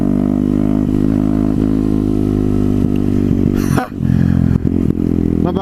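A repaired motorcycle engine runs steadily up close, loud and continuous, with a brief clattering dip near the end before it carries on, with no talk over it.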